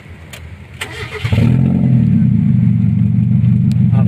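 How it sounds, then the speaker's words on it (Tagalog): A car engine cranks and fires up after a few clicks, then settles into a steady, loud idle close by, with a short spoken phrase heard before it catches. "let's start the engine"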